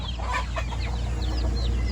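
Farm chickens cluck and chatter close by, a steady run of short calls over a low constant rumble.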